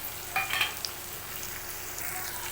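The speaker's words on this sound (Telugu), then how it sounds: "ముందుగా కట్ చేసి పెట్టుకున్న ఆనియన్ అయితే వేసుకుందాం ఇప్పుడు అందులోనే కట్ చేసి పెట్టుకున్న పచ్చిమిర్చి వేసుకుందాం" Chopped onion and green chillies frying in a pan make a steady, moderate sizzle, with a couple of brief louder bursts and light scrapes early on.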